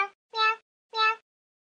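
A high, childlike voice imitates a cat, giving three short meows close to the mic with brief gaps between them.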